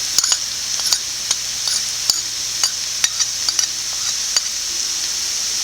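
Onion, garlic and ginger sautéing in a pan with chilli powder and other spice powders, a steady sizzle broken by repeated scrapes and taps of a spoon stirring; no voices.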